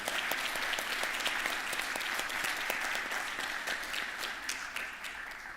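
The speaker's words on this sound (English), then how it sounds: "Please join me in a big applause for our panelists" Conference audience applauding panelists after a superconductivity session at EUCAS 2025, a steady, moderately distant patter of many hands clapping without break.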